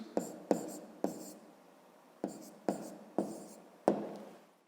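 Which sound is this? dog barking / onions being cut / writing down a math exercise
writing down a math exercise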